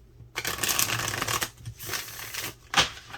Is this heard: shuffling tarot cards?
yes